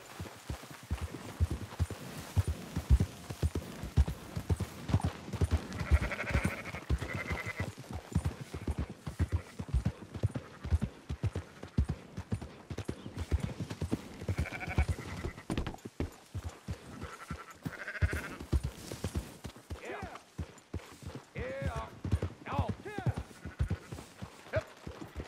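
Sheep bleating and horse hooves clip-clopping in the video game Red Dead Redemption 2, a steady run of hoofbeats with occasional bleats from the flock under ongoing male dialogue.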